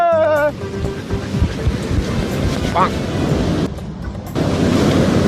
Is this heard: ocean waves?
yes